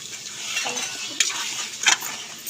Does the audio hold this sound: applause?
no